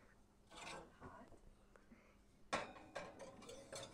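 A baking pan of grain-free, gluten-free yuca bread slides into a hot oven with scraping metallic rubs and clanks, a sharp loud clatter near the end as the rack or door moves.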